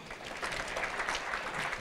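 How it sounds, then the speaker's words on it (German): An audience at a conference keynote applauds, a brief spell of dense, even clapping that stays fairly quiet and distant throughout. "Mit einem Applaus für Kölnisch Wasser."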